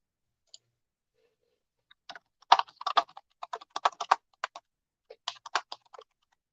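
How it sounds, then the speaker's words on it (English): Computer keyboard keys are tapped in quick irregular bursts of sharp clicks, close and clear against silence, with brief pauses between flurries of typing. "Just as I finished typing it out."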